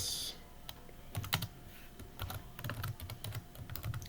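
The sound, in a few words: typing on a computer keyboard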